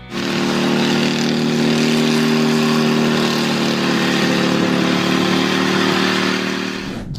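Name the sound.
homemade helicopter engine and spinning rotor running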